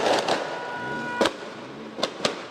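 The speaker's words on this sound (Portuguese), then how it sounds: "Acompanhado de rojões" Fireworks or firecrackers going off during a street robbery, several sharp loud bangs spread across the moment over a steady background hum, no talk.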